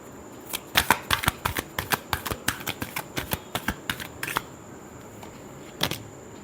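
Tarot cards being shuffled, a quick series of crisp riffling flicks, about a dozen close snaps in a steady run and then one last flick after a short pause.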